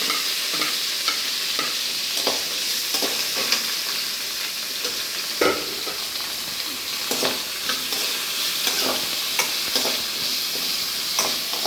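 Sliced onion and curry leaves sizzle in hot oil for a chickpea sundal stir-fry, a constant hiss punctuated by frequent ladle scrapes and taps, close up with no talking.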